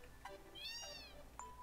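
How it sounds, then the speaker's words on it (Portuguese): A cat in the video game Final Fantasy VII gives one drawn-out, rising and falling meow, fairly clear and alone over faint background game sound, with short soft tones before and after. "Gatinho."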